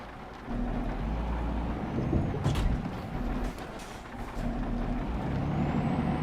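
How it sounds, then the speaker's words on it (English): A heavy truck's retarder engages in a truck driving game, a steady low engine-brake rumble that runs throughout with a brief louder hiss-like burst partway, no talking. "Why did I activate the retarder?"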